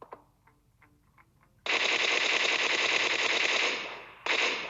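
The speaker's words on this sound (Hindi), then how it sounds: "अब ये तो फायर सुनो आप" Automatic gunfire from the video game PUBG bursts out in a long, loud, rapid stream, then a brief pause and a second burst. A few faint ticking clicks come before the first burst.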